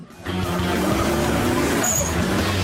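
A powerful race car on a hill climb course drifts with its rear wheels sliding, its engine roaring loudly and steadily with tire scrub throughout, and a faint voice in the background.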